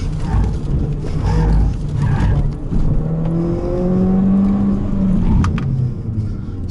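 A Mazda 3 driven hard through a tight slalom, its engine revving up and falling back in quick swells, with rising and falling whine and tire noise, fairly close and loud, no voices.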